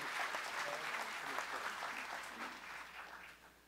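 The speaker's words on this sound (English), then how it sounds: "let's give them a great round of applause" A church congregation at a Sunday missions conference service applauds, a dense, steady round of clapping from many hands that fades slightly toward the end.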